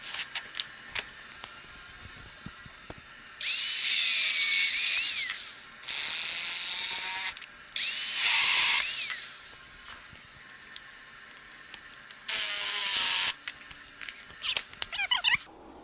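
A ratchet with a deep socket works on a Dana 44 axle, with several loud, rasping bursts of a few seconds each separated by quieter gaps, heard close up.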